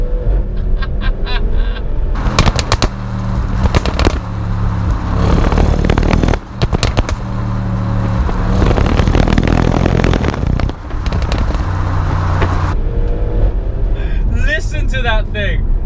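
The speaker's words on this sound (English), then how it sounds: "Introducing the Stuttgart Symphony that is the V8 twin turbo in the" Twin-turbo V8 of an Audi RS6 Performance roaring loud and close, revving hard with surging bursts, sharp pops and bangs on the overrun, and a rising whine near the end.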